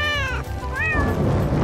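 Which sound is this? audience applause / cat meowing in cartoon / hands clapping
cat meowing in cartoon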